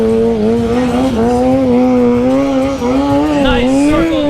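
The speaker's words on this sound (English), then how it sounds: "Nice circle drift donuts out of Outlaw Alex, keeping it in control" Car spinning tight circle drift donuts with tires squealing and smoking: a loud, close engine roars steadily while the rev pitch wavers and the tire screech runs continuously over it.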